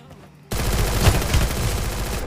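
Rapid bursts of gunfire from a shooting video game with an AWM sniper rifle featured, starting abruptly and rattling densely and loudly for about two seconds.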